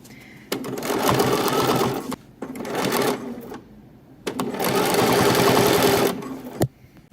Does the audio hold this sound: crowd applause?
no